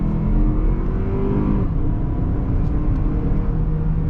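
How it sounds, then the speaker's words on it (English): A 2023 Toyota Highlander accelerating onto a highway as it merges, with a steady loud engine drone and road roar heard from inside the cabin. No clear whine of the turbo spooling stands out from the noise. "If you tune your ear well enough, you can hear the turbo spooling as you take off."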